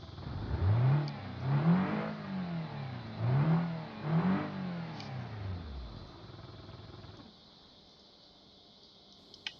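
Inside a base-model BMW E36, the engine revs up and falls back in four rising and falling sweeps, loud and close, before settling to a quieter idle hum.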